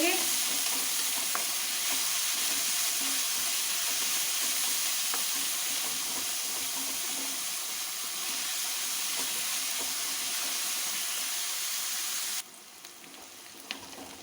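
Chopped onions fry in a pan after ginger and garlic, a dense steady sizzle with faint stirring scrapes, close and continuous, dropping slightly quieter at the very end.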